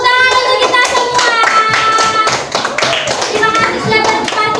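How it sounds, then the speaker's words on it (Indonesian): A classroom group of Indonesian students claps hands together, a dense, loud patter of claps that is close and continuous for several seconds, with voices mixed in. "Tepuk tangan untuk kita semua."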